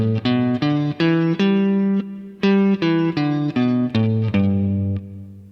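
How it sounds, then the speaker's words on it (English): A guitar plays the five-tone pentatonic scale up and back down in clear, evenly spaced single notes, ringing alone with no talk. "The simpler pentatonic scale features only 5 tones."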